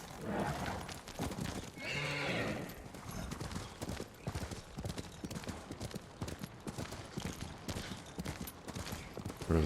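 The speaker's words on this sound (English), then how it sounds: "Horse!" Horse neighing and whinnying with clip-clop hooves in the video game Ghost of Tsushima, a loud whinny near the start over steady hoofbeats that continue throughout with game sounds.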